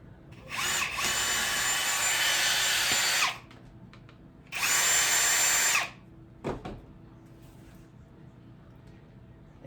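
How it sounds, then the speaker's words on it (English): A power drill fitted with a large bit bores through a piece of corn in two loud sustained whirring runs, about three seconds and then a second shorter run, followed by small clunks and handling noises. "I have my biggest drill bit, which I will drill right through the center of this corn."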